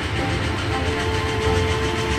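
A cartoon fast electric train rushes past with a steady, loud rumbling roar that holds for about two seconds, with no talk.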